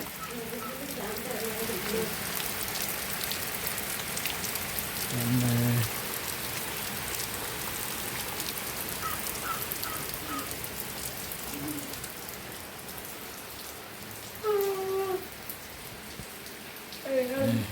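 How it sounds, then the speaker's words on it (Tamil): Steady rain pours down in a constant hiss, with brief voices speaking now and then beneath it. "மழை விட்டு விட்டு அடிச்சுட்டு தான் இருக்கு"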